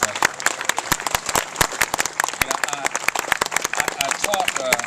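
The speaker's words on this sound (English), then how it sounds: "So give him another round of applause." A crowd at the grand opening of the Overton Park bicycle arch in Memphis, Tennessee, breaks into dense, sustained applause with sharp overlapping claps for several seconds, loud and close.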